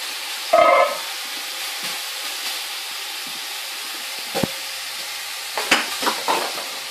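Tomatoes and zucchini cook in a pan over a fireplace, giving a steady, close sizzle and hiss with a few stirring scrapes and soft knocks from the pan, and no voices.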